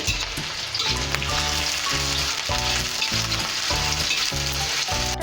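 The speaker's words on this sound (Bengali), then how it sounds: "খুব বেশি ভাজবো না অল্পই ভাজলাম" Green chilies sizzle loudly in hot oil in a pan, a steady dense crackle with rhythmic stirring strokes repeating about once a second, close and without any voice.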